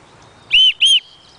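A bushcraft survival whistle gives two short, shrill, loud blasts close by, each lasting about a fifth of a second with a brief gap between, and there is no talking.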